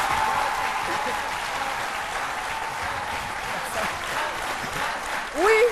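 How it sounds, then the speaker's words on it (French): Steady applause from a studio audience on a French-language TV show fills the clip, with a voice briefly rising near the end. "j'entends des applaudissements"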